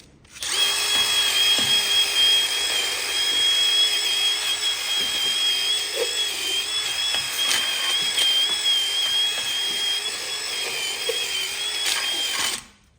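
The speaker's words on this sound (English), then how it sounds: "And then we'll quickly knock it with our drill brush with a nylon end." A power drill fitted with a nylon brush whirs steadily at high pitch for about twelve seconds, close and loud, with a faint scrubbing texture underneath and slight dips in speed.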